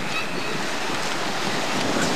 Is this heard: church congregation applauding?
no